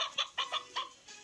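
Chickens cluck in short, quick bursts, several soft clucks close together with brief pauses between them.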